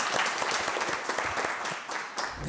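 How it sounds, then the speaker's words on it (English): A live audience at a startup pitch event gives a founder a short round of applause, a dense burst of clapping that stays steady for a couple of seconds before slightly thinning. "Round of applause."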